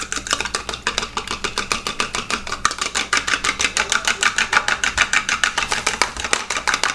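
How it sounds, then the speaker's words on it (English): A whisk beating egg whites in a bowl for a low-carb cheesecake, rapid even clicking strokes repeated steadily and close by for several seconds with no talking. "it said to froth it up a little bit, so we're going to do that. We're going to whisk it."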